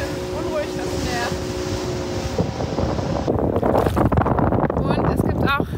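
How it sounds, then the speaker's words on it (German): Wind buffets the microphone over rough, rushing Caribbean sea off Mexico and a boat's engine rumble, steady and loud, with a voice speaking briefly. "Ganz schön unruhig das Meer."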